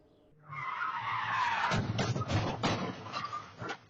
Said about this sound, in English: the car came flying around this corner, hopped the curb here, and then ran straight into the tree and multiple cars that were parked